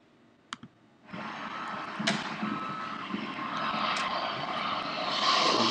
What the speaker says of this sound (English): Just as the plane moves overhead, it becomes something different.